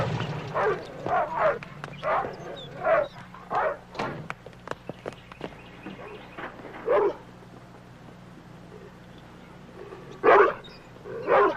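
Several Doberman dogs bark in bursts, loud and close, with gaps of quieter background and some faint voices between the barks.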